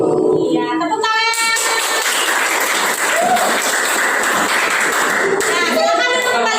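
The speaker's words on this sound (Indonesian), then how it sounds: "Ya, tepuk tangan." Schoolchildren in a classroom clap their hands together in a loud, dense burst lasting several seconds, with young voices calling out just before and after.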